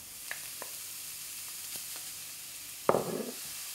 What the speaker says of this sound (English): I'm going to make Mediterranean vegetables with pork chilli to show you dry frying